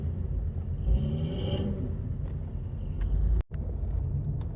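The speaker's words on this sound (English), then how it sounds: "Tire spinning on a rock." Off-road vehicle with a tire spinning on rock on a trail, a steady loud engine rumble with a rising whir, close and continuous, broken by a short dropout.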